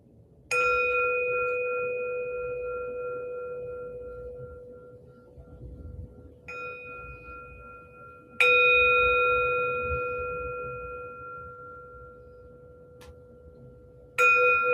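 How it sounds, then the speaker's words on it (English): A meditation bell rung to begin practice, struck four times at irregular intervals, each strike ringing out clear and bright before slowly decaying, with no voices. "Bell calling us in."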